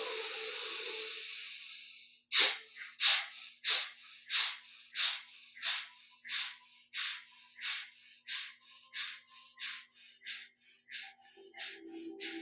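Breath of fire yoga breathing: after a soft hiss, a long steady run of forceful nasal exhales, close and rhythmic, about two per second, with no talking over them.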